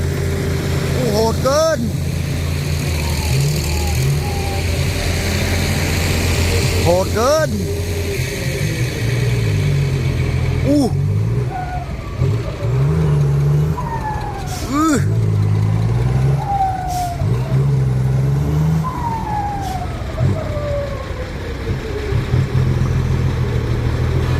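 Heavy ten-wheel trucks at a pit work site, diesel engines running loud and close with repeated revving and gear changes rising and falling throughout, someone talking over the engine noise.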